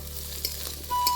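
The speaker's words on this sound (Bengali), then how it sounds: "সিদ্ধ করা আলুটা এখন ভেজে নেব" Boiled potatoes fry with turmeric powder in a small amount of oil, a close crackling sizzle with stirring scrapes and a low steady hum beneath, brief and without speech.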